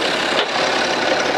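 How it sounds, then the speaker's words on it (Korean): A BMW X3 30d diesel engine idles steadily after a timing chain and engine mount repair, giving an even, continuous mechanical hum with no talking over it. "지금 되게 고른 소음이 나고 있고요. 엔진 소음 자체는 아주 상태가 좋아요."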